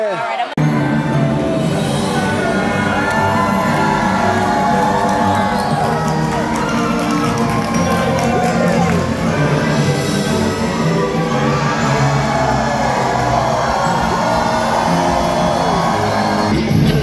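Dinner theatre audience at a medieval tournament show in Orlando cheers, whoops and boos loudly and continuously, a dense crowd roar with children shouting and voices mixed throughout.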